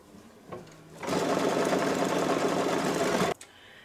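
An embroidery machine stitches the placement outline for a Relish design: a brief mechanical tap, then a loud, steady, fast whirring run of stitching for about two seconds that stops abruptly.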